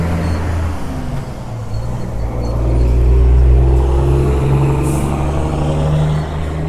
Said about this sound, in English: There's obviously more traffic these days now, so we're having to deal with that a little bit more.